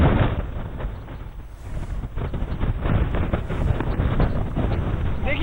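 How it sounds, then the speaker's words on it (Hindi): Strong gusting wind from Cyclone Vardah in Chennai roars and buffets the microphone in loud, continuous surges. "बहुत तेज हवा चल रही है, हम देख पा रहे हैं।"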